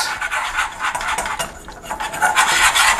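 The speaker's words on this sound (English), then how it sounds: "I'm just going to mix that in, give this a whisk, have this on medium heat" Flour stirred into melted butter is whisked in a pan over medium heat for homemade mac and cheese, giving rapid close scraping and rasping strokes against the metal, loud and continuous.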